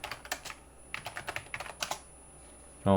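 Irregular bursts of typing on a computer keyboard, close and clear with short pauses between runs of keystrokes; a brief low voice-like sound comes in at the very end.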